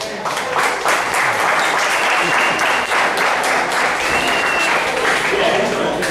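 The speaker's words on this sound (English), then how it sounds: "let's bring Mill up with a nice warm round of applause" A crowd at the Hokies end-of-season ceremony gives a steady, dense round of applause to welcome a speaker, with continuous clapping and some voices mixed in throughout.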